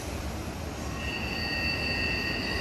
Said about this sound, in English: that train was going 31 miles an hour